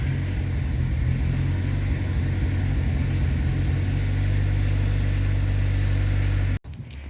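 A GAZ truck engine idles steadily just after starting, a loud continuous low rumble that holds for several seconds before cutting off abruptly near the end.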